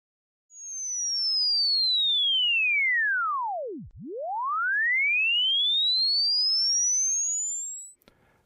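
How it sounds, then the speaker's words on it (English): A pure beat tone from mixing a fixed tone with a sliding sweep falls smoothly from high pitch to silence, then rises again, loud and clean, ending with a brief click. "The mixer should cancel out both tones and give us only the beat frequency between them"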